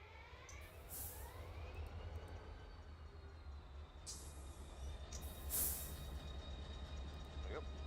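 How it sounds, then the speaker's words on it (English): A simulated freight train carrying auto racks rolls past in the Run8 simulator, a continuous low rumble with high squeals and horn-like tones over it, steady throughout. "There's also a train going to come past us in a minute."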